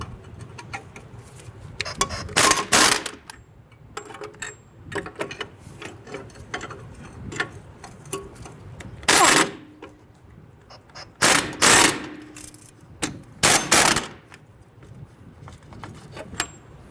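A socket wrench with a 15/16 socket loosening strut nuts on a 1994–2004 Ford Mustang front suspension, giving several separate bursts of rapid ratchet clicking with quieter gaps, close by.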